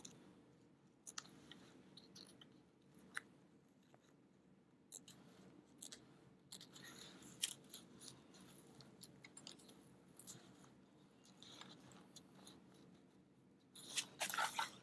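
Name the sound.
scissors snipping fabric while sewing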